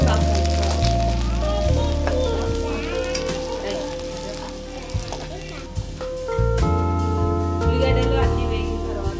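Sliced onions and curry leaves sizzle and fry in a pan while spinach and chana dal curry is cooked, a steady crackling hiss under music, with occasional stirring clicks.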